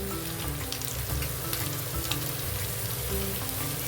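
Turned-over boiled eggs keep frying in a pan of oil, giving a continuous close crackling sizzle with small pops and a faint spatula touch.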